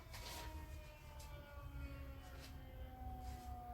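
A distant ambulance siren wails steadily with slowly sliding tones, faint and far away, under low rumbling street noise.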